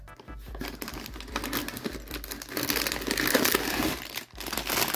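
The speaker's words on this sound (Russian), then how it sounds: "Сейчас высыпем все детальки." Small plastic LEGO pieces clatter and rattle out of a crinkling plastic bag, a busy rustling spill up close.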